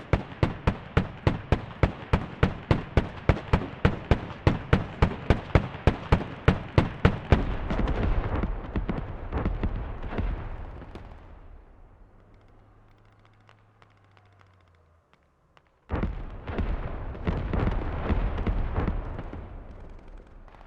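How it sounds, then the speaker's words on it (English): Rapid artillery barrage in the Squad video game, a dense series of sharp booming blasts roughly every third of a second, then a rumbling decay into near silence before another loud wave of explosions resumes. "Artillery coming out on the point."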